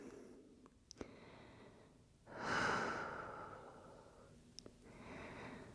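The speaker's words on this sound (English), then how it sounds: "Encouraging those inhales and exhales to lengthen." Slow, deep yoga breaths sound close and quiet, with one long airy exhale in the middle and a softer breath toward the end, plus a few faint clicks.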